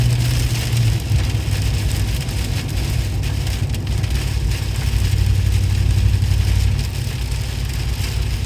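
Rain patters steadily on a moving vehicle, a dense wash of drops over a low engine drone from a muffler-deleted GM 6.6L, continuous and fairly loud with no voices.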